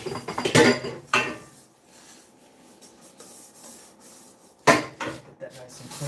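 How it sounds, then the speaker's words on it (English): Dishes and cutlery being washed by hand in a home kitchen after prepping beef and pork belly, with clattering knocks and scrubbing at the start, a quieter rinsing stretch, then another loud clatter near the end. "Washing dishes as we go."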